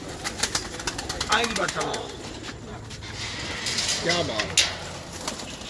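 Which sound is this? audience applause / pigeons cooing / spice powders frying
pigeons cooing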